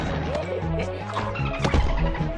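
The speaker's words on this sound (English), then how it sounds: "Stepped on another potato mine." A potato mine going off in Plants vs. Zombies Garden Warfare, a short thudding blast mixed into the game's music and effects with a spoken voice running under it.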